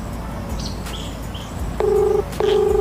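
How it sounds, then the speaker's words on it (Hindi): A quiet room with faint chirps, then two steady electronic phone tones, each lasting about half a second, like a call being dialed. "फोन कर रही हूँ।"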